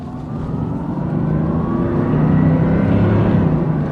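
Jaguar XJ-S V12 HE pulling hard under full throttle, a loud, smooth rising engine roar that builds steadily through the gear with no talk over it.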